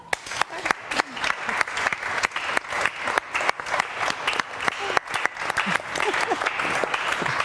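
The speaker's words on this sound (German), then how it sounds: "Nochmal Applaus für euch beide." Sustained audience applause at a German evening film show event, dense clapping throughout with a few louder claps standing out, fairly close and steady.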